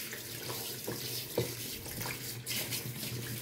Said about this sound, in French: on procède au lavage, au rinçage, hein, parce que ça y est, le bain est fait